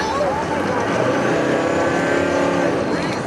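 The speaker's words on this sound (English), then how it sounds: "just downshifts and goes like it should" A 1981 Mercedes 300TD W123 diesel station wagon with a split, leaking CV boot downshifts and accelerates, its engine note loud and steady throughout, close to the microphone.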